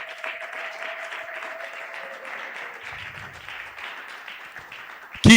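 A church congregation at a Sunday worship and thanksgiving service applauds steadily for Jesus, sustained clapping from a crowd with a sudden loud burst at the end.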